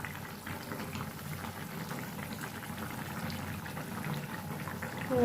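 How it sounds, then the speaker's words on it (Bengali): A pot of curry gravy comes to a boil, giving a continuous soft bubbling and popping close by that swells slightly at the end, with no voices. "এদিকে দেখো আমার ঝোলটাও ফুটে গেছে"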